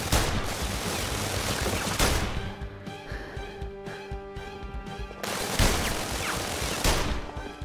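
Heavy gunfire in the PlayStation VR Worlds London Heist game, dense loud bursts of shots that pause briefly mid-stretch, leaving a ringing hum, before another loud volley erupts.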